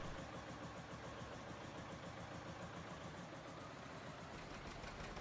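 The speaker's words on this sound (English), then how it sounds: "Original recording was actually a 730 diesel on the dyno." A John Deere 730 diesel tractor engine running on a dyno, giving a steady, dense, loud mechanical chug that holds constant throughout, heard alone.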